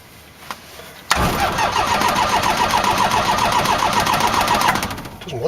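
A light aircraft engine cranks for several seconds with a continuous, rhythmic whirring and chugging that never catches, then winds down, heard close without speech.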